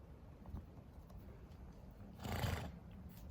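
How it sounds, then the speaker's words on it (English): A donkey named Ivan gives a single loud snort at close range, a harsh breathy burst lasting under a second against a quiet outdoor background. "Nobody wants to hear a donkey snort, Ivan."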